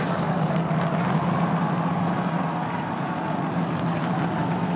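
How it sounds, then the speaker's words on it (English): SpaceX Super Heavy booster from Starship Flight 8, slowing on three engines for its landing, gives a steady, distant droning roar with a low hum that holds evenly throughout. "This is going to come down to three engines as the booster slows down for its landing."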